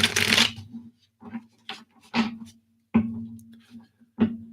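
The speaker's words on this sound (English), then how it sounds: "Give these a couple shuffles here." Tarot cards are shuffled close by in a series of quick riffles and bursts separated by pauses, over a low steady hum.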